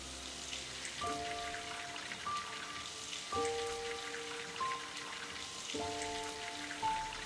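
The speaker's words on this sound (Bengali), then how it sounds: "এবার দিয়ে দেবো ফেটিয়ে রাখা ডিমটা।" Beaten egg frying in hot oil in a wok, a steady crackling sizzle like rain throughout, with clinking utensil tones over it, no talking.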